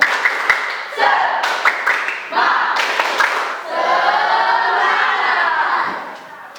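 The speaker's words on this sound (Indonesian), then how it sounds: "Biar semangat kita SBK Media. Tepuk semangat." A classroom group bursts into a rhythmic spirit clap, sharp hand claps in quick bursts mixed with children's shouts and chanting, then sustained crowd cheering, loud and close.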